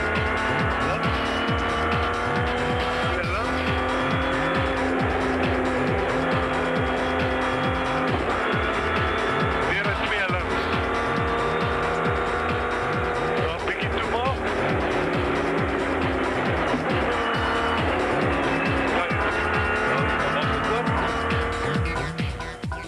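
Rally cars race at full throttle on a stage of the 2007 Amathole rally, engines roaring loud and close with tires squealing and skidding through corners, continuous for the whole stretch.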